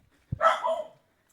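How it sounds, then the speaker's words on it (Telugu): A single dog barks once in a narrow lane in Varkala, Kerala, a short, fairly close yelp that cuts off into silence. "అదిగో కుక్కలు కూడా అరుస్తున్నాయి"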